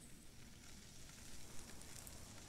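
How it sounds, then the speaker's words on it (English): Oil sizzling steadily as fries cook on a stove in The Sims 4, a continuous soft crackling hiss with no voices over it. "she just finished frying her fries"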